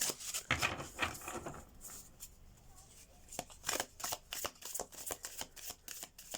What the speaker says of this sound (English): While I'm shuffling your cards